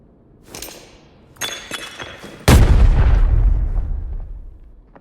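A loud grenade explosion in Arena Breakout booms out and rolls into a long, fading low rumble, following a few sharper clinks and thuds.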